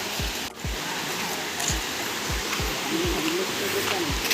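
A stream near a waterfall rushes with a steady broadband wash, while low thumps and a brief faint voice sit under the flow.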